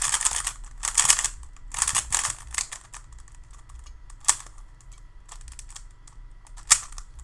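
A budget Guanlong 3x3 speed cube is turned rapidly by hand, producing dense bursts of plastic clicking and clacking with a few sharper snaps, close and fairly loud for a cube.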